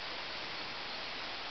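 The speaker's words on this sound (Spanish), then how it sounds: "aquí se va el río que sale de la cascada" A small river flowing out of a waterfall at La Gloria in Apulco, Puebla, Mexico, making a steady, even rush of water that holds the same level throughout with no other sounds.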